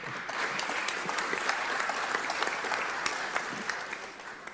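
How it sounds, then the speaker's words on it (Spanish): An audience at a political party forum claps loudly and steadily for an arriving speaker, a dense, continuous wash of applause filling the room. "Recibimos con fuertes aplausos."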